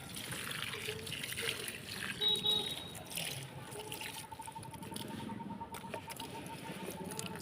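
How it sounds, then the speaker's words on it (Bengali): Water patters and trickles onto bean plant leaves in a rooftop garden pot, a soft, close, continuous sprinkling with light dribbles, faint overall. "পাতাটাও একটু ভিজে ভিজে দিই তাহলে গাছ সতেজ থাকবে"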